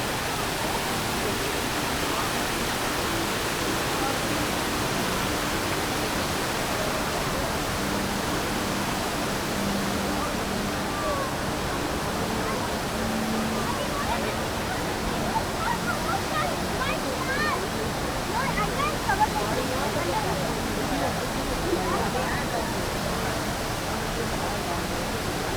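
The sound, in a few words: indoor waterfall at Jewel Changi Airport, Singapore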